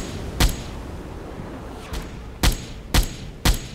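Naval deck gun firing in Silent Hunter IV, four sharp, evenly spaced cracking shots about half a second apart after an earlier single round, each loud and distinct against a low background rumble.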